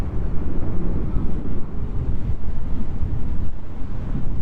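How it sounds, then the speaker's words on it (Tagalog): Strong wind roars over a Honda Click scooter on a long ride, a loud continuous low buffeting with gusty swells and no break. "Ang lakas lang ng hangin."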